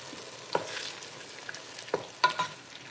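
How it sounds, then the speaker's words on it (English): Tomatoes sizzle softly in a pan, a quiet steady frying hiss broken by a few sharp clinks and stirring scrapes, with no one talking. "We just fry the tomatoes for a few minutes."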